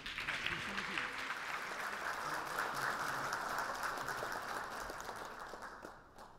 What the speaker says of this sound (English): So let's give Mark a big applause.